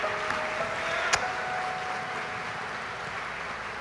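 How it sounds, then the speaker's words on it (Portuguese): A church congregation during a family worship service gives a steady round of applause for the brothers, the clapping continuing evenly with one sharper clap standing out partway through. "Vamos dar uma salva de palmas a esses irmãos."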